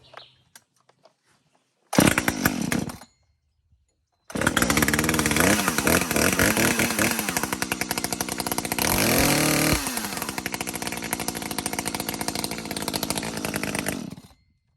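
An Echo Timberwolf chainsaw starts with a short burst, cuts out, then restarts and runs loud and close for about ten seconds, its engine revving and wavering before it shuts off.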